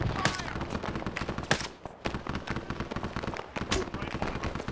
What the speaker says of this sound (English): Taking fire! Rifle! 200 meters! To the right of us!